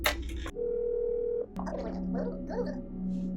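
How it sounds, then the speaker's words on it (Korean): Phone tones in a video game sound close up: a few quick dial beeps, a steady tone, then another held tone under muffled mechanical bubbling. "여기 전화 한번 해봅시다"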